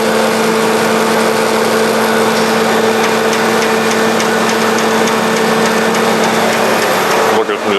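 A Model 204 machine cutting a heavy ceramic workpiece, producing a loud, steady grinding whine with a constant motor hum that runs unbroken, briefly shifting near the end, while a voice talks over it.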